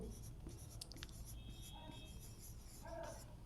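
Marker or chalk writing on a board during a physics lecture on mirrors, soft scratchy strokes and squeaks in short irregular bursts, faint and close in a quiet room.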